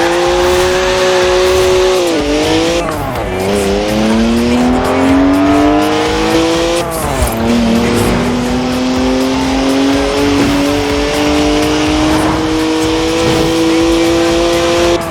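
In Forza Horizon 4, a rear-wheel-drive BMW 1M's engine roars loudly and continuously, revving and shifting gears repeatedly while its tires squeal during a drift, with no talking over it.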